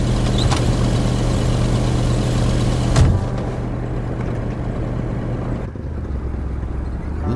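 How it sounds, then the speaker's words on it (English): A loud car idles in the video game Kona, a steady low engine drone up close; a sharp thump lands partway through, after which the engine sound drops and continues more quietly. "My God, your car is loud."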